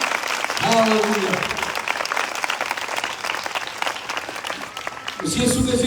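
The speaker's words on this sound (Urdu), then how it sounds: "زوردار تالیاں یسوع مسیح کے لیے بجائیں" Loud, sustained applause from a church congregation at a Christian gathering in Islamabad rolls on continuously, with a voice calling out briefly near the start and again at the end.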